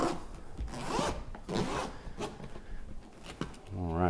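The zipper on the textured carrying case of a Removu S1 gimbal, with rubber over the zip track, is pulled open in several rasping strokes close up while a person talks.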